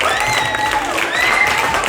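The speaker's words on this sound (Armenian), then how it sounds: "դե դուք ձեր համար նա ծափեր տվեք" A class of schoolchildren claps together in a dense, continuous burst of applause at a birthday surprise in Dvin, with bright young voices squealing faintly above it.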